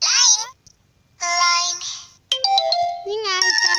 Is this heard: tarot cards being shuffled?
no